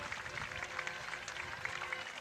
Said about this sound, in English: Getting a standing ovation from the crowds.